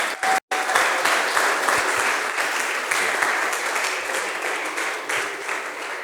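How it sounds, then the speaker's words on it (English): A crowd applauds at an ACity leadership session. The clapping is dense and continuous for several seconds, broken by one brief dropout near the start. "Oh, please clap your hands now."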